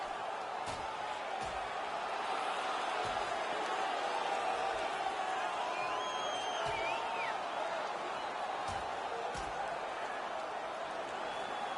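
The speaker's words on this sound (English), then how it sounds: "The crowd is on their feet, and they're trying to give their teams a little spark" Video-game hockey arena crowd roaring during a fight between Colorado Avalanche and Detroit Red Wings players, a steady, dense wash of cheering with a few faint thuds and whistles throughout.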